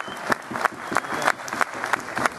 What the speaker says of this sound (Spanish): Un aplauso para mi domadora.